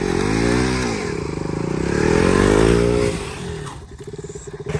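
A motorbike engine revs and roars up close during light bike stunts, rising and falling in pitch, then dropping to a lumpy idle near the end.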